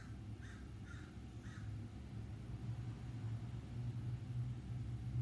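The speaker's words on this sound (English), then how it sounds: "There you go. I think that's crows." Crows on wires along a main street give three quick caws in the first two seconds, heard at a moderate distance over low traffic rumble that continues to the end.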